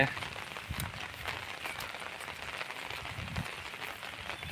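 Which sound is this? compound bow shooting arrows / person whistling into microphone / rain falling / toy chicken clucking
rain falling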